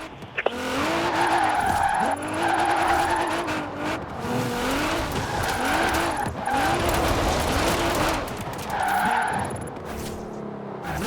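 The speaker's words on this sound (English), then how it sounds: "Now let's really shred those tires." Tires squeal and skid continuously as a 1969 Ford Mustang Boss 302 drifts in Forza Horizon 4, the engine revving and wavering beneath the loud, sustained screech with shifting pitch.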